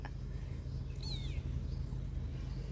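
A cat meows once, a short rising-falling call at moderate distance, over a constant low engine-like hum and background noise.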